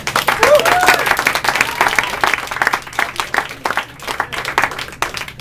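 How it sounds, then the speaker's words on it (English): A room full of people at a cafe meeting claps and cheers at length, the applause swelling at first and then thinning out in scattered claps. "So give all yourselves a round of applause."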